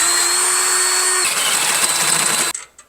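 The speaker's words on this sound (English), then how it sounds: "Now I need to drill a hole in the top of this so I can put my bolt up through and weld it." A power drill bores a hole in steel tubing clamped in a bench vise, a loud steady whine that shifts pitch partway through as the bit bites, then cuts off abruptly near the end.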